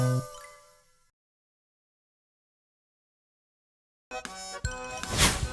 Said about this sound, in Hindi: फोन उठा, क्या पता केबीसी से बच्चन साहब बुला रहे हो।